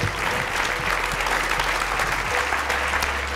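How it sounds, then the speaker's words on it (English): Audience at a trucking industry women's salute event giving a round of applause, a loud, full, continuous clapping from a large crowd with a low hum beneath it. "Round of applause."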